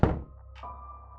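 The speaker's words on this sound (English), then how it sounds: "a heavy door slammed shut." A single heavy thunk of a door slamming shut, loud and close, followed by a low lingering hum and faint ringing tone.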